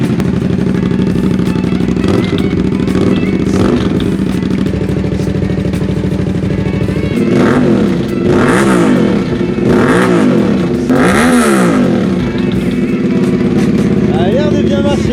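A modified Yamaha Super Ténéré 750cc converted into a supermoto roars loudly up close, idling roughly and then revving in repeated rising and falling sweeps.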